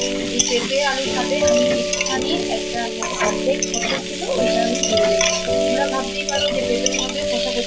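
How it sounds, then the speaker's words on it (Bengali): Papaya and potato pieces fry in a pan with a loud, close sizzle, stirred with scraping and occasional clinks against the metal, and a steady tonal hum runs underneath. "দেখো অনেকটাই ভাজা ভাজা হয়ে গেছে"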